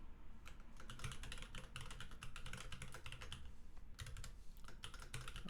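Rapid typing on a computer keyboard during a Java programming session, with quiet, steady clatters of keystrokes in uneven bursts and brief pauses, and no talking.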